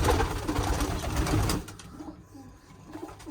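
Pigeons coo in a loft, with dense overlapping calls and rustling for about a second and a half. The flock then drops to quieter, scattered coos.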